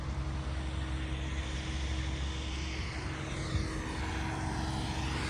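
A vintage propeller plane with a rotary engine drones steadily overhead at Oshkosh, a quiet, distant and even engine hum that continues for several seconds with no voices.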